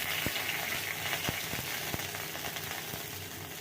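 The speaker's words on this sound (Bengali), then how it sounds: "এর মধ্যে তেল গরম হয়ে গেছে, গোটা জিরে দিয়ে দিলাম, হয়ে গেছে একটা তেজপাতা দিয়ে দেবো" Whole cumin seeds and a bay leaf sizzle in hot oil beside a fried fish head, a steady close hiss broken by a few sharp spatula taps.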